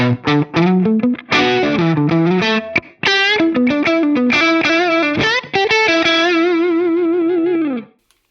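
An electric guitar played through a Fractal Audio Klon drive model rings out in driven, slightly distorted riffs and sustained chords, close and loud, ending on a held chord that fades out.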